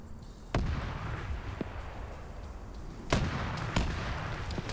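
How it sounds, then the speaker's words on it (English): BMD autocannon fire in a tactical multiplayer match, several sharp heavy shots spaced apart over a dense rumbling battlefield background, with a couple of closer bangs standing out. "The autocannon is going to be able to penetrate both walls there"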